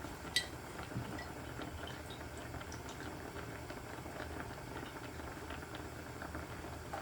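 A yam simmers in a pot of boiling water on the stove, giving a steady, soft bubbling and hiss with occasional faint clinks, fairly quiet and continuous throughout.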